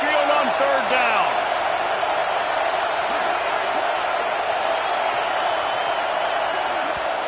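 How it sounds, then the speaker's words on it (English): A Madden football video game stadium crowd, the Tide home fans at Saban Field on third down, makes a loud, steady roar that holds throughout, with a few brief sharper sounds near the start. "The Tide crowd rolling noise down onto Saban Field on 3rd down."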